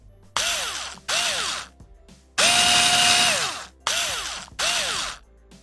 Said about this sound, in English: I take a screwdriver with an adapter, which already has a nozzle, and unscrew the motor